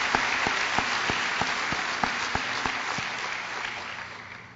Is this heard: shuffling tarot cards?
no